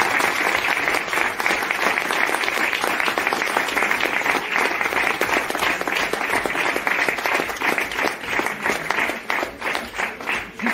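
An audience applauds the artist Dady at an exhibition opening at L'Alambic MJC Ronceray, giving dense, sustained clapping that stays loud and even for the whole stretch.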